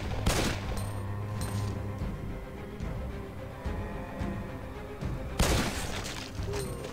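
Gunfire in a Resident Evil game, sharp close shots spaced out over several seconds, with two louder bursts at the start and near the end over a low game background.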